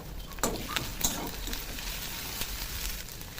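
Chopped onion fries in hot oil with garlic paste and ginger paste stirred in, giving a close, steady sizzle with a few sharp scraping stirs.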